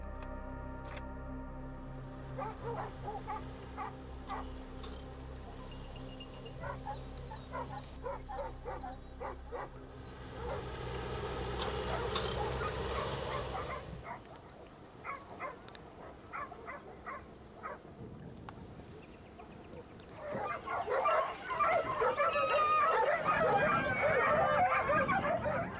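A pack of hunting dogs barks, yips and whimpers excitedly as they are released into the brush at the start of a driven boar hunt, some near and some farther off, building to a louder chorus at the end.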